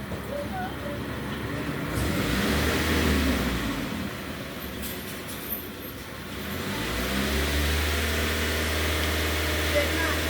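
A 2006 Nissan Y11 AD with a QG15 engine and electronic throttle runs steadily, then its engine note climbs as the throttle is pressed, a continuous low rumble that rises and grows fuller near the end.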